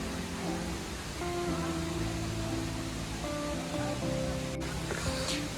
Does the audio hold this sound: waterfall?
yes